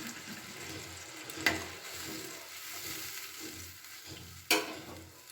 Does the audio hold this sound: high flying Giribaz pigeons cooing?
no